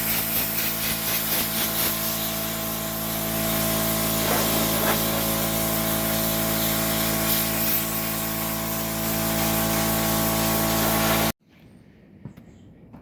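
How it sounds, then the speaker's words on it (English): An air compressor runs loudly and steadily with a constant hum and hiss during a truck cab interior rebuild, then abruptly shuts off, leaving near silence with a few faint clicks. "now that the air compressor has shut off"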